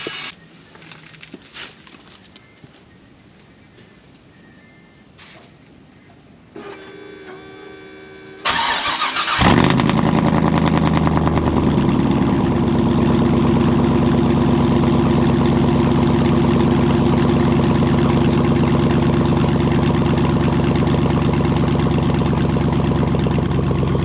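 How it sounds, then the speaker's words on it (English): A cold Cadillac engine cranks and catches about nine seconds in, roaring up loud before settling into a steady, rumbling idle that holds for the rest of the time, with no talk. "That's a quick little cold start on the Mamalona Cadillac here."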